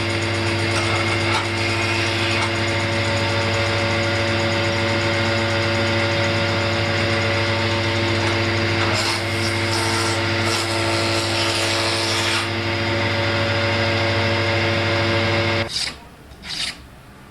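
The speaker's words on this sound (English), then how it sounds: "This machine is called a planer." Wood planer machine in a guitar maker's workshop, a loud steady motor hum with strong tonal drone and rough cutting rasp, running continuously before cutting off abruptly near the end, no speech.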